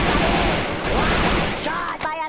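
Rapid gunfire from a shooting video game fills the clip with dense, loud overlapping bursts, easing briefly near the end before another sharp shot.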